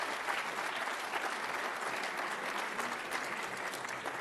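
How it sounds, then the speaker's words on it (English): Graduates and guests at a Class of 2024 graduation ceremony break into continuous applause, an even, dense roar of many hands clapping, fairly distant and steady from start to finish. "how about a round of applause once again for each and every one of you here?"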